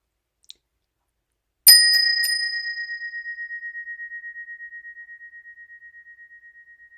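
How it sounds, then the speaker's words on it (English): A mindfulness bell is struck once, its bright sustained tone ringing clearly and slowly fading with a gentle pulsing decay over several seconds in quiet surroundings, after a tiny click just before. "listen till you hear the very last note of the bell"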